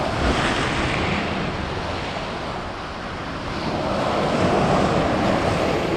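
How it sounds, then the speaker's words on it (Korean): Surf crashes steadily onto a rocky shoreline at Aewol on Jeju's coast, a loud, continuous roar of breaking waves with wind buffeting the microphone, swelling again toward the end, no voices. "파도가 좀 많이 쳐주고 있습니다"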